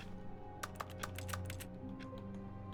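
Keys clack on a computer keyboard in a short burst of quick taps, close and fairly quiet, followed by a few scattered presses over a low background hum.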